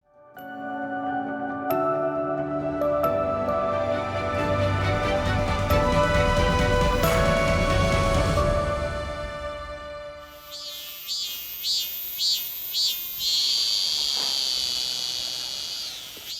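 A Korean cicada (Hyalessa fuscata) sings a shrill series of rhythmic pulses that settles into a sustained high buzzing tone, heard alone after a preceding tonal sound.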